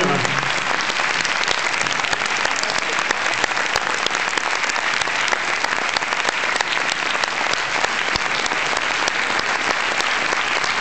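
A theatre audience at a French film premiere applauds steadily, a dense, loud, sustained wash of clapping from many hands, with a faint voice briefly heard beneath.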